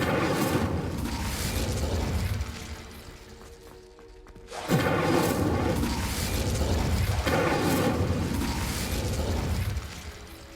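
An Incendio fire spell cast in Hogwarts Legacy gives a loud burst with a crackling, rushing whoosh, drops to a brief lull, then swells into a second dense, roaring blast that holds for several seconds.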